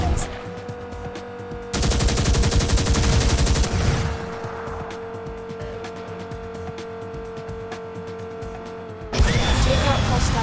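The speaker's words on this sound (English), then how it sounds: "Press the right trigger to fire the corporate weapons." Car-mounted weapons firing in the SpyHunter 2 video game, bursts of rapid machine-gun fire starting and stopping over a steady engine drone and game music, loud and near.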